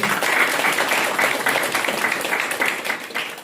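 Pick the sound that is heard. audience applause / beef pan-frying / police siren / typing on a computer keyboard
audience applause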